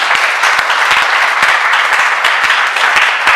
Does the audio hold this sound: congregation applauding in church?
yes